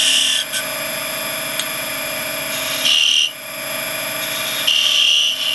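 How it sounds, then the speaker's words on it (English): Sandpaper is pressed against turned wood spinning on a lathe, giving a steady motor whine and hum with a brighter scratchy hiss that swells in a few short bursts. "I'll finish that off with sandpaper"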